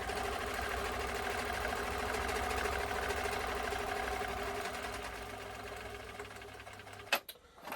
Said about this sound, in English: Stitch length still a bit stiff.